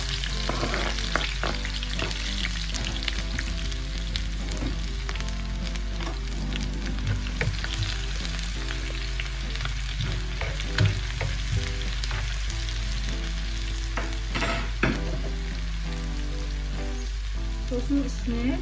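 Onions sizzle in a hot frying pan for a shakshuka, a continuous close crackle with scattered pops and occasional stirring scrapes that holds steady throughout.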